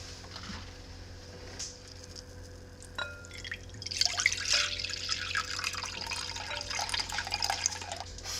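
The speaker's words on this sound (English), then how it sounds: "now to this bowl, we are going to add" Water poured into a mixing bowl while making sourdough French bread dough, a steady splashing trickle that starts after a few quiet seconds and continues near and moderately loud without talk.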